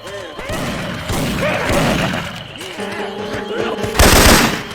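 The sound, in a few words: machine gun fire from video game Left 4 Dead 2 (Syphon Filter sounds)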